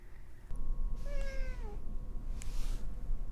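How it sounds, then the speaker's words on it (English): A pet cat meows indoors, a clear rising then falling call standing out over steady low background noise, with a short sharp click near the end. "This is my other cat."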